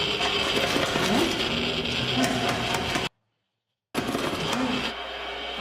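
Dense, crackling radiation meter clicks from the Chernobyl TV series fill the scene, loud and continuous, then cut to sudden silence before the rapid clicking returns.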